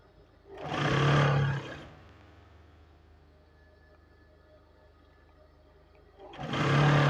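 A sewing machine stitches a trouser seam in two loud whirring bursts, one near the start lasting about a second and another at the end, separated by a quiet hum of the idle motor.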